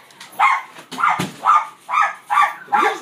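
A dog barks in a steady series of six sharp, fairly loud barks spaced about half a second apart, close by, in a room during a chaotic chicken-themed game session.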